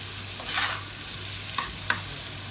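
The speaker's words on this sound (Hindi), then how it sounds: "तो अभी मैं इसको फ्राई कर रही हूँ।" Precooked rice stir-fried in a pan with vegetables, egg and chicken makes a continuous close sizzle with a few quick scraping stirs and small clicks of the utensil, and no one speaks.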